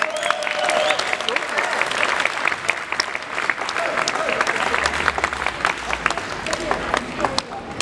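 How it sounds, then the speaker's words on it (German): Applause for guitarist Manuel Lopez at a singer's show, dense crowd clapping sustained for several seconds with some cheering and faint voices mixed in, steady and fairly loud throughout. "Einen großen Applaus für Manuel Lopez!"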